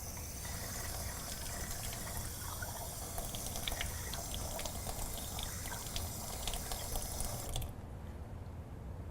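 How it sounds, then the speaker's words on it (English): A kitchen sink tap runs steadily, filling a test tube with water in a continuous hiss and splash that stops abruptly near the end, with no talking. "let's go over to the kitchen sink. We'll go ahead and get 2 more samples of water"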